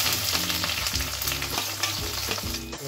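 Chopped onions fry in a pan of hot oil with whole cumin seeds and dried red chillies, giving a steady, dense sizzle close up that holds without a break.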